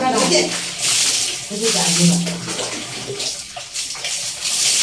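Water splashing and pouring from a bucket during a bath, with gushing bursts and drips close by while people talk over it.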